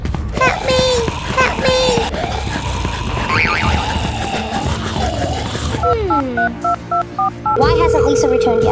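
Telephone dialing in the Roblox game Brookhaven, with a run of evenly spaced keypad tones played near the end after a stretch of game sounds and voices, close and clear.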